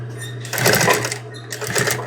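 A sewing machine stitches ribbon onto a patch in two short close bursts of rapid whirring, separated by a brief pause, over a steady motor hum.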